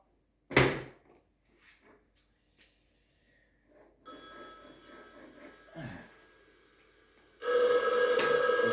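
A telephone rings in two bursts, a shorter electronic trill and then a louder sustained ring, after an earlier thump and a few soft knocks in a quiet room.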